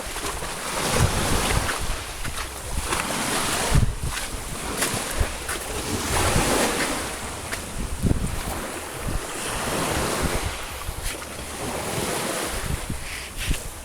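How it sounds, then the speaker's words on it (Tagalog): Strong ocean waves surge and crash in repeated rolling swells, loud and near, with heavy wind buffeting throughout and no voices. "Lakas ng alon."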